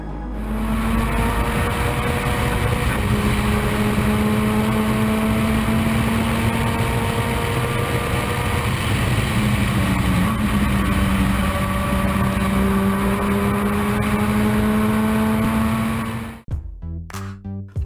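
Nissan DeltaWing race car engine droning steadily at speed, a loud continuous tone with gear-like pitch sweeps rising and falling, then cutting off abruptly near the end.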